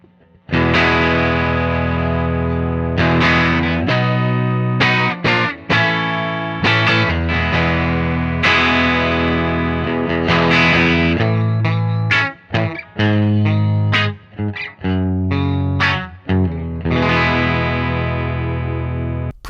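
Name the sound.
Telecaster electric guitar through Vintage Vibe amp sim, default settings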